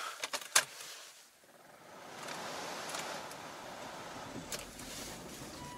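A Volvo car that often fails to start cranks and fires: a few sharp clicks and rattles at first, then a steady, broad engine rumble that keeps running close by.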